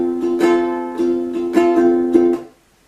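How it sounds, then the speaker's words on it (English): Close, solo ukulele strumming in a lively down-up pattern, bright chord strums with rhythmic accents, stopping cleanly after a few seconds. "So the strumming pattern is going to sound like this."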